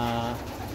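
Racing pigeons in a loft give a brief, low cooing call at the start, which then fades into soft background noise.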